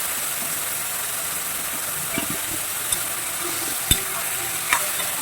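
Tomatoes frying in a pan for sambar, a steady close sizzle and hiss with a few faint clinks of a utensil stirring.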